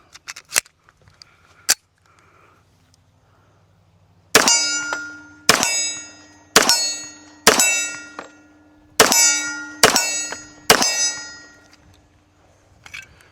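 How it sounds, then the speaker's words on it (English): Kimber stainless custom 1911 pistol in .45 ACP fires seven sharp, loud shots downrange at roughly one-second intervals, each ringing briefly, after a few faint clicks of handling. "This is a Kimber stainless custom. We'll get some rounds down range."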